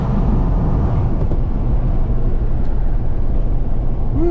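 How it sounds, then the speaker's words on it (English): Steady wind noise inside a 2018 Jeep JL Rubicon cruising at 55 mph with the windows up, a loud, constant low roar and rush with no talking. "you just have some of the to be expected wind noise of the Jeep"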